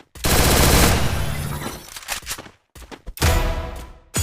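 Loud bursts of automatic gunfire from the Free Fire video game, a long dense rapid-fire volley followed by shorter broken bursts and a final heavy burst, with no talking.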